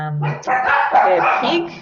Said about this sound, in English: I apologise for my dogs barking in the background there.